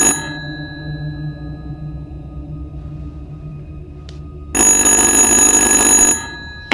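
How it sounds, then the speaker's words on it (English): Telephone ringing in the horror video game Little Hope, a loud bright electronic ring arriving as one long burst near the end, over a low rumbling ambient drone. "Answer the goddamn phone!"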